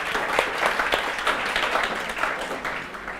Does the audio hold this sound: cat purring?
no